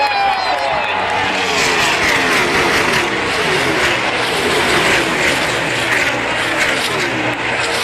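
NASCAR stock cars roar off turn 4 at the Auto Club 400, heard from the grandstands as a loud, continuous wash of engine noise with passing whooshes and crowd rumble beneath a commentator's voice.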